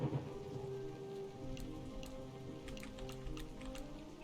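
Steady rain patters on surfaces in the Ocean's Heart video game, a constant dense hiss with scattered droplet ticks beneath a low background hum.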